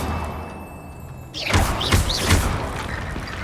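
A Confringo spell blast in Hogwarts Legacy, heard as a sudden loud burst followed by a few rapid fiery thuds and crackling impacts, with no talking.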